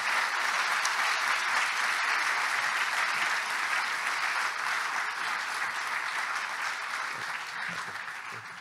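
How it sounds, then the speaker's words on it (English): An audience applauds an award recipient at a financial congress, sustained dense clapping from a large crowd that holds steady and slowly tapers toward the end. "please join me in a great applause"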